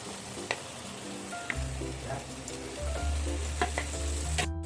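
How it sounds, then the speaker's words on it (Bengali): Soybean and potato pieces sizzle steadily in hot spice paste, with soft stirring and scraping noises running throughout. "এই সয়াবিন ভাজা আর আলু ভাজা আমি এই মশলার মধ্যে ঢেলে দিচ্ছি"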